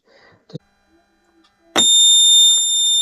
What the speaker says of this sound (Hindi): यहाँ पर बजर बजना शुरू हो गया है